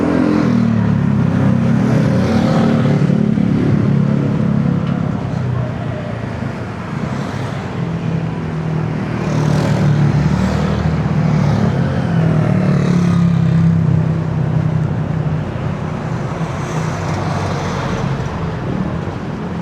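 Street traffic in Angeles City, a continuous engine rumble as cars and motorcycles pass at close range, swelling and easing with each vehicle, loud with no talk over it.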